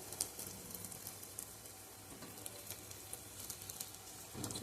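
Purnalu dumplings fry in hot oil with a continuous soft sizzle and scattered bubbling pops, close up and fairly quiet, with no voices.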